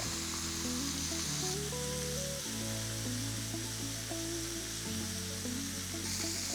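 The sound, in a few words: chicken pieces frying in a pan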